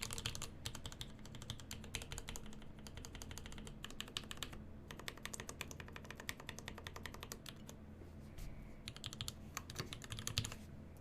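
Mechanical keyboard switches topped with keycaps clatter under steady, rapid typing, a dense run of close clicks and clacks with brief pauses between bursts.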